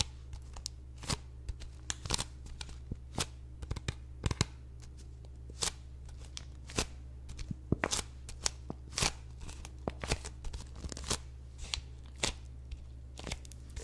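Mixed paper and sticky handling sounds, close and quiet: scattered crinkly snaps, peels and crisp rustles at an uneven pace over a low steady hum, with no voices.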